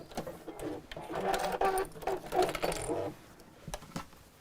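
A sewing machine sews the seam of a small box bag in one short burst of rapid mechanical stitching in the middle, close by, with light handling clicks before and after.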